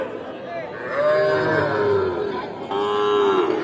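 Cattle and calves moo loudly and close by, several long drawn-out lowing calls, with a busy livestock market in Dinajpur, Bangladesh, murmuring behind them.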